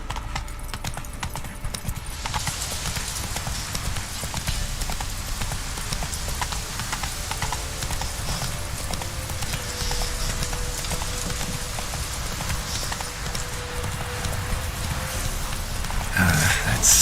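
Hooves of a horse clip-clop steadily as it gallops through the Witcher 3 video game, a continuous rhythmic patter under a dense ambient bed that lasts throughout.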